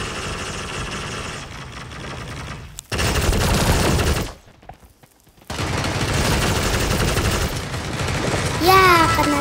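Dense bursts of gunfire in the mobile shooter game Sausage Man, loud and nearly continuous, broken by a brief near-silent gap, with game effects and a voice talking over parts of it.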